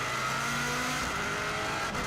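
A 2016 Subaru WRX STI drives the Isle of Man TT course, its engine holding a steady, droning note over continuous road and tyre noise, close and sustained for a couple of seconds.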